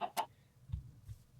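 Chickens in Minecraft give a couple of soft, brief clucks, with faint low thumps between them, quiet and close.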